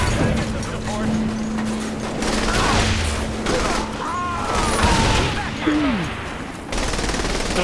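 Rapid gunfire crackles in Saints Row: The Third Remastered, with repeated bursts layered over a steady mechanical hum and game effects while voices talk throughout.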